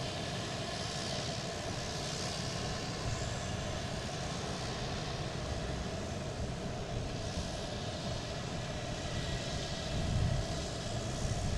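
Delta Embraer E-175 jet airliner at Boston Logan airport, its engines giving a faint, steady broadband rumble and hiss heard at a distance, continuous with no speech.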